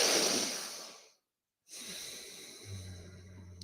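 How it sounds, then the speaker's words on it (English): Someone draws a long slow breath in through the nose during a breathwork session for mountain athletes. It fades into a short silent pause, then a second soft airy inhale follows at close range. "Breathe in."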